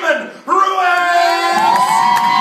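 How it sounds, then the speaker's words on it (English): Comedy club crowd cheering and whooping as comedian Raymond Ruiz is introduced, sustained loud shouts and yells rising after a brief dip, close and dense. "give a big round of applause for Raymond"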